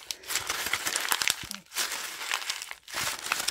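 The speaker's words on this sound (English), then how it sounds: "Here we go with crumpling." Paper for a faux-leather spiral-bound planner is crumpled by hand close up, giving dense, crackly crinkling in three bursts separated by brief pauses, with no voices.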